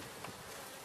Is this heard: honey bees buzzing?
yes